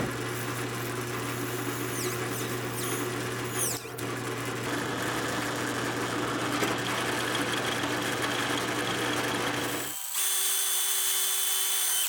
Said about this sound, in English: I can drill the hole through the slide itself and use that as a template to drill the holes in